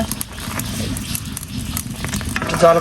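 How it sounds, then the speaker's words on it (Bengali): A pot of sour rice comes to a rolling boil with loud, dense bubbling and sputtering, growing stronger toward the end, with no talking. "টক ভাতে বলক চলে আসছে"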